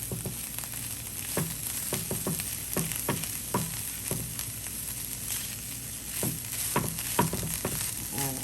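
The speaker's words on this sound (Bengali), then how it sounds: "এইভাবে আমি মাছগুলো একটু ফ্রাই করে নেব।" Pieces of tuna fish fry in a pan with a steady close sizzle, broken by repeated soft stirring clicks and scrapes.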